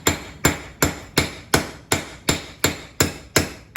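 Hammer blows strike a steel bending jig being forged flat on all sides, ten loud, evenly spaced ringing hits at roughly two per second with short decays between them.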